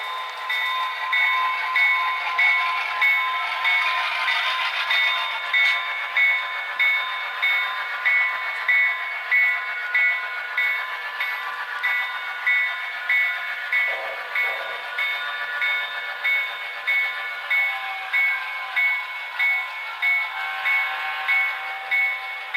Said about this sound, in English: Train 125, the westbound Grand Canyon, leaves for Williams, Arizona